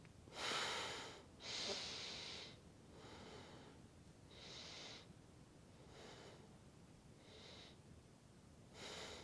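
Deep breathing during a yoga neck exercise with the head pressed into the hands: a series of strong, close breaths through the nose, some sharp and snorting, in a slow, steady rhythm.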